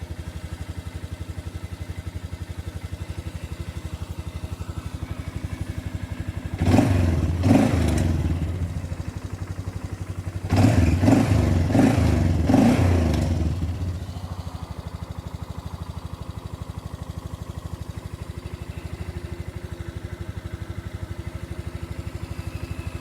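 An ATV engine on a cold-weather battery cranks briefly and catches, with two short bursts of engine noise over a low background hum before it settles back to quiet.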